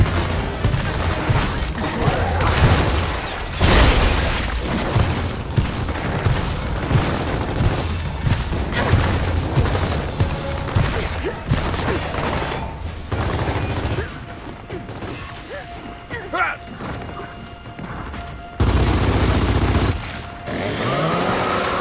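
Gunfire and booms from combat in Gears of War 4, with repeated bursts and mechanical clatter spread across a dense, loud battle mix and some speech underneath.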